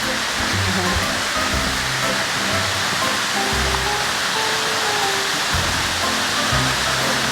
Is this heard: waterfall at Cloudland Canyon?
yes